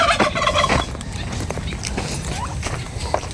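Breeder-size Bourbon Red turkeys gobbling nearby in a pen, a loud burst at the start followed by busy farmyard noise and scattered calls, with some talking in the background.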